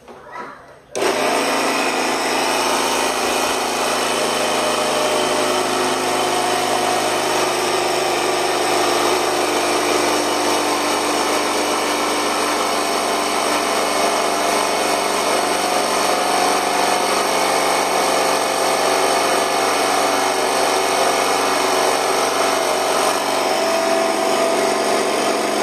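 A loud, continuous hiss of compressed air inflates a fire hose being used for an ultralight aircraft's composite tailspring, starting abruptly after a brief pause and holding steady and close for the rest of the clip.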